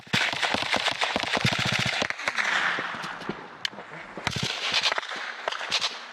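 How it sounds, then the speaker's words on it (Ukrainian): Gunfire and shelling on a front line, heard as dense bursts of sharp cracks and rapid repeated reports, with a short pause in the middle before another volley, moderately distant. "Коли обстріл перетворюється на суцільну сталеву вогняну зливу, морпіхи спостерігають терпляче."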